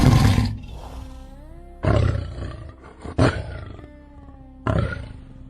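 A lion lets out loud, deep roars in four heavy bursts with breathy grunting gaps between them, close and powerful, with no voices.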